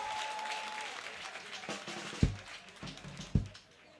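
A church congregation applauds in a broad wash of clapping, with a couple of sharp, close knocks standing out as the sound fades toward the end.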